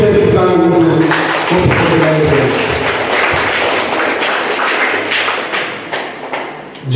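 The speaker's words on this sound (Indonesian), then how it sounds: "Mari kita tepuk tangan untuk" Applause from guests at a wedding reception, a dense wash of clapping that carries through the whole stretch and thins slightly toward the end, with voices and some thumps mixed in.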